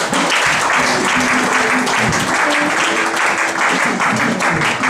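A church congregation at a Sunday convention service applauds steadily for about five seconds, a dense, loud wash of clapping with a few voices mixed in.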